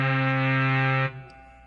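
A Moog synthesizer oscillator sounds combined tones, a loud steady buzzy harmonic-rich drone that holds for about a second, then drops abruptly to a fainter, lower tone.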